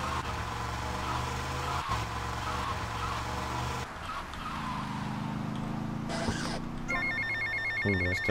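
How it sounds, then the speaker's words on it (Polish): A phone rings inside GTA Vice City, the repeated electronic trill of a handset bursting in over the game's steady engine and traffic rumble, loud and close near the end. "Może zadzwoni mi jeszcze jakiś telefon"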